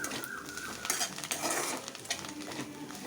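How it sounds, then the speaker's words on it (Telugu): Panaganti leaf fry being stirred in a pan, with a steady broadband sizzle of frying under scraping strokes of a utensil over about three seconds, no voices. "మళ్ళీ దీన్ని కొంచెం కలుపుకోవాలి"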